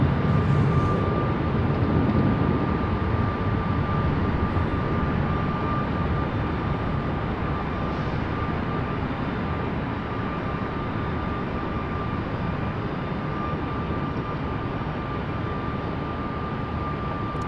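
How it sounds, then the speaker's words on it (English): An Embraer E175 jet passes near Raleigh Durham International Airport, a steady broadband engine roar with a faint whine held throughout, slowly easing in loudness, with no voices. "There goes that E175."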